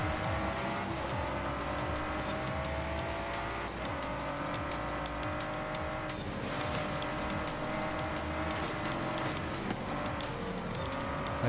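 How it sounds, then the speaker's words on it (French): A fast car races in Forza Horizon 5, its engine holding a steady, loud high-speed roar with faint tire noise and small shifts in pitch throughout, no voices over it. "Avec un véhicule rapide comme ça, j'ai toujours peur qu'il parte en sucette à la moindre occasion."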